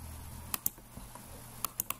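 Computer keyboard keys clack in two quick bursts for a copy and paste shortcut during CAD drafting work, each burst a tight cluster of two or three crisp, close taps over a quiet room hum.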